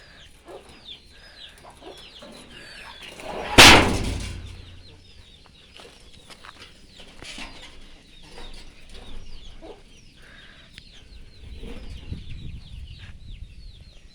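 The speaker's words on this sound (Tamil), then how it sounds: "இதாங்க கோழி ஷெட்டு" Chickens clucking faintly at a farm chicken shed, with scattered soft calls and flutters throughout and one sharp, loud burst near the start.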